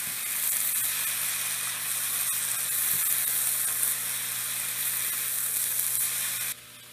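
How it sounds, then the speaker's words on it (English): Sautéed vegetables sizzle steadily in a hot pan, a close, continuous hiss of frying with faint scrapes from stirring, cutting off abruptly at the end. "Just give our veggies a stir again."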